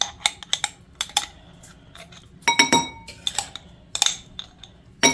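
Spoon stirring ingredients to dissolve them in hot water for a spiny lobster and giant prawn curry, sharp clinks against the container in irregular clusters, close and crisp with quiet gaps between strikes.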